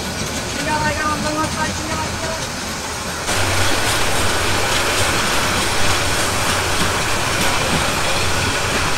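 The Mohanagar Provati Express runs on rails in the rain, a dense steady rumble with clattering wheels that grows louder partway through, and a voice talks faintly under it.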